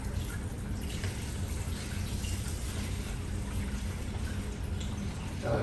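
Water pours steadily into a BEERMKR home brewing machine, a continuous close rushing splash that holds even for several seconds with no talking.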